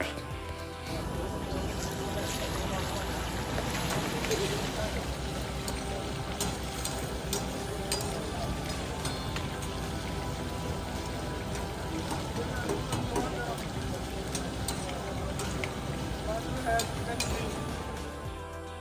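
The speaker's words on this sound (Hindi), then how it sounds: "ऑयल गर्म होते ही इसमें गए चिकन।" Chicken for Peshawari karahi goes into hot oil at a busy food street stall, a dense continuous sizzle and fry crackle that holds steady throughout, with talk and background chatter mixed in.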